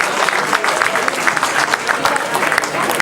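Applause for an invited basketball coach at a post-match gathering, a crowd clapping briskly and steadily nearby, with scattered louder claps standing out through the few seconds.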